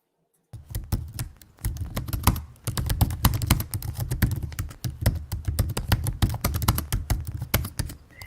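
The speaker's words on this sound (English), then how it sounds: "Don't worry, the typing will go away after about the first 30 seconds." Rapid typing on a computer keyboard during a live writing sprint, dense irregular key clicks running steadily and fairly close, with no voices.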